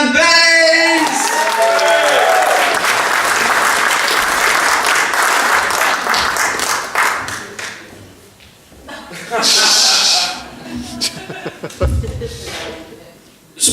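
A comedy club audience applauds and cheers for a comedian, a loud, dense wash of clapping that fades after several seconds into scattered claps, murmurs and a few whoops, with a voice briefly heard over the tail.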